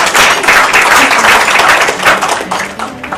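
An audience at an awards ceremony applauds loudly, with dense, steady clapping that fades slightly toward the end.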